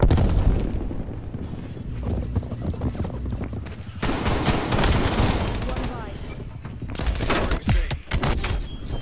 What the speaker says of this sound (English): Enemy frag grenade.